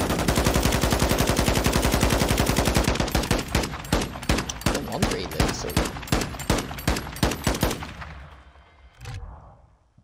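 Rapid automatic gunfire in a competitive Call of Duty match between Atlanta FaZe and Toronto Ultra, a dense continuous burst giving way to distinct spaced shots before fading out, loud and close.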